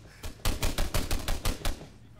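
A machine gun firing tracer rounds in ArmA 3: one short shot, then a rapid burst of about seven sharp, evenly spaced cracks from fairly close, ending abruptly.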